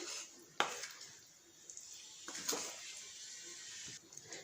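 Chicken and masala for a Chettinad chicken gravy are stirred in a pot. Soft metallic clinks and scrapes of a spoon against the pot come at irregular moments, a few sharper knocks among them, and the whole is quiet.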